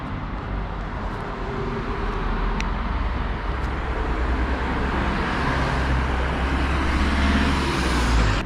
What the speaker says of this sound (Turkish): Vallahi geldi otobüs. Tam zamanında.